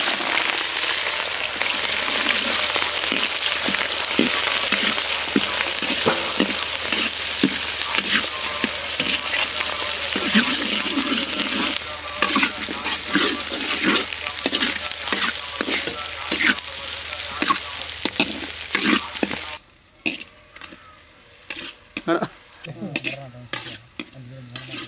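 Onions frying in hot oil for a village-style country chicken dish, a loud steady sizzle broken by repeated stirring scrapes that continues for about twenty seconds before dropping abruptly to a quieter crackle.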